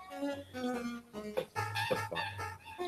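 A cartoonish chicken from the Alfred Chicken video game clucks and squawks in a run of short tonal calls, rising into a louder squawk near the middle, fairly quiet and with no speech over it.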